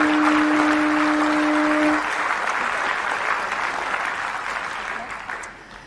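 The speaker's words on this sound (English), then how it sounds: "Let's give them a round of applause." An audience at the Rugby World Cup 2021 draw bursts into sustained applause, loud and steady, with a brief tone at the start before slowly tapering.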